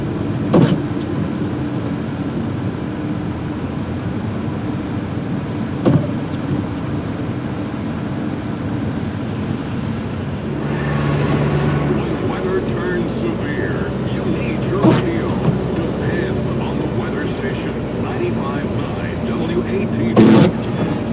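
Car interior on a snowy road, steady engine and road rumble with wind noise throughout, a radio host talking over it from around ten seconds onward.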